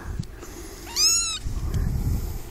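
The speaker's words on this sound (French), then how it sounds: "Miaou, arrête de chialer, petit chialer." A cat gives a single clear, rising-then-falling meow partway through, set against quiet rustling and faint low thumps nearby.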